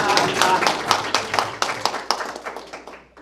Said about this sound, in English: applause is welcome